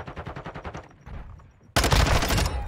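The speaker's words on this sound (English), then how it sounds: "teammate shooting from P1." Quick rattling bursts of automatic gunfire in Modern Warfare 2 ranked multiplayer, a rapid repeating string of shots, a short lull, then a loud dense volley close by, with no talking.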